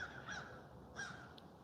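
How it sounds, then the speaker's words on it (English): Crows caw outdoors, two harsh calls spaced about a second apart followed by a short faint chirp, moderately distant over quiet background noise, with no talk. "The birds are back, baby."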